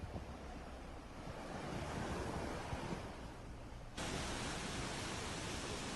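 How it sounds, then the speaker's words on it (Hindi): A waterfall pours down behind a Himalayan temple in Himachal, a dense continuous rushing roar heard close with no talking, shifting abruptly in level partway through. "यहाँ से ऊपर से जो झरना बहता है वो मंदिर के पीछे से गिरता है"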